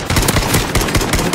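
Rapid automatic gunfire from a video game, dense bursts of repeated shots running loud and close through the whole moment with no talking.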